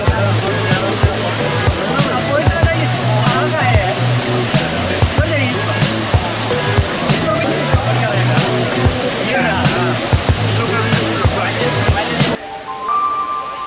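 Meenmutty waterfall in Kerala pours in a continuous, loud rush of falling water, overlaid with music and sharp intermittent clicks, before cutting abruptly to a quieter tail.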